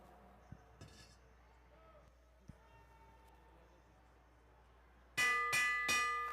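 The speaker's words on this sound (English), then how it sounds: "All right, next lap. I think we'll hear the bell." Three loud bright clangs of a race lap bell ring out in quick succession near the end, after several seconds of quiet background with a few faint knocks.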